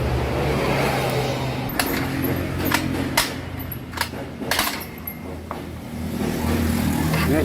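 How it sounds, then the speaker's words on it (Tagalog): A Rusi Gala 125 motorcycle's electric starter cranks the engine, which won't start, a churning motor drone broken by a run of sharp clicks and knocks before the cranking steadies again. "Ito, medyo okay na. Sumasama na yung kanyang starter."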